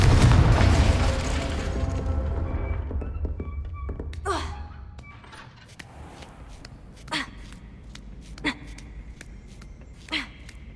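A big magical blast from the Confringo fire spell in the Hogwarts Legacy video game: a loud booming explosion at the start that rumbles and fades, followed by several sharper, quieter spell impacts.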